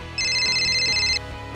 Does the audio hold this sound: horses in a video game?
no